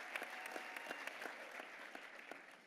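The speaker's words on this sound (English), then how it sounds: "Let's give those a round of applause." A gala audience applauds a keynote panel with dense, steady clapping that fills the whole stretch at an even level, with no voices over it.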